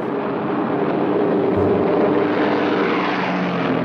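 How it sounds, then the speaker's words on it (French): A World War II B-17 bomber taking off, a loud steady roar of piston engines and propellers filling the scene without a break, no voices. "106 B-17 peuvent décoller."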